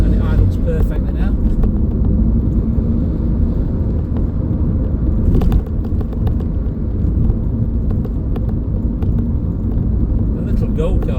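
A 2003 Ford Focus RS MK1 with 93k miles and a new idle speed control valve sits idling, a loud, steady, even engine rumble close by throughout.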